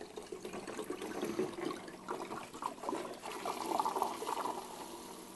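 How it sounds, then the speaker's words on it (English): A second bottle of wine pours into a sangria mix with a continuous soft gurgling, splashing liquid sound, close by and fairly quiet, running for several seconds without talk. "Then we're going to take the second bottle and pour it in."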